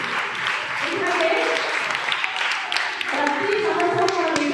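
Audience applause at a thank-you speech, a steady patter of many hands clapping at moderate distance, continuous for several seconds with a voice talking over it.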